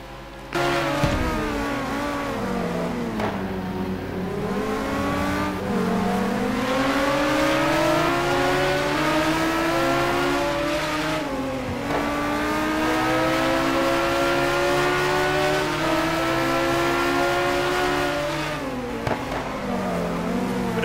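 Several race car engines in the simGT sim racing game, recorded at the Aldo Scribante circuit, howl loud and continuous for about twenty seconds, with pitch climbing through gear changes and dipping where cars brake and shift.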